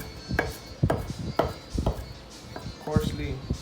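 A knife coarsely chopping fresh cilantro on a cutting board for pico de gallo, with several separate thudding cuts spread unevenly and a short clatter near the end, close and fairly loud.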